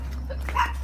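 A dog gives a short, faint bark or yip on a hillside garden path, heard once against a steady low hum with no talk.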